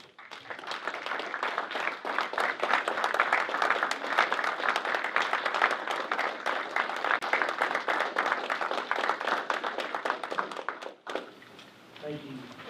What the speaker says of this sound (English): So how about joining me in a big round of applause for Mr. David Lewis.